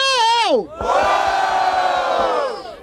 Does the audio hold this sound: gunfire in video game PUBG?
no